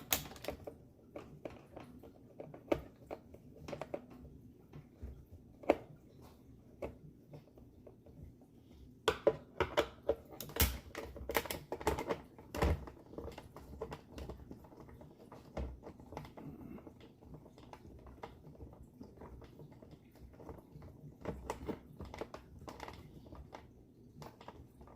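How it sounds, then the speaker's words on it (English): Screws being worked loose from the plastic packaging of a 1970 Cutlass Supreme SX diecast model car, heard as close, irregular small clicks, ticks and scrapes over a quiet background with no talking. "some of these screws are very hard to get out"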